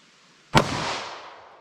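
A single sharp gunshot from a snub-nose revolver firing a 9mm +P Federal HST round into ballistic gel, loud and close, with a short decaying echo after the crack.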